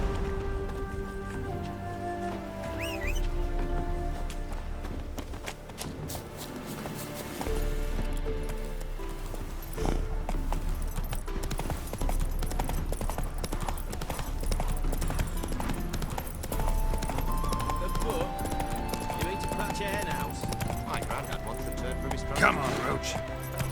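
Roach the horse trotting in The Witcher 3, steady clip-clop hooves on the ground running continuously and loud beneath game music, with a voice speaking briefly.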